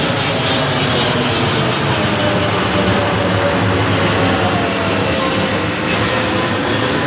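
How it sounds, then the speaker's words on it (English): An army aircraft disguised as a civilian plane passes straight overhead, a loud, steady engine roar filling the whole stretch with no break and no voices. "It is literally an army aircraft pretending to be a civilian plane."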